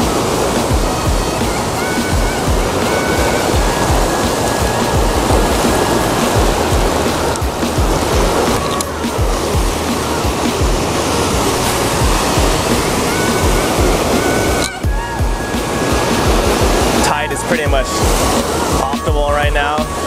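At night, ocean waves wash onto the shore of Hawaii's Big Island in a loud, continuous roar of surf and sloshing water that fills the whole stretch.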